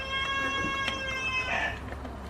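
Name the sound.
rooster crowing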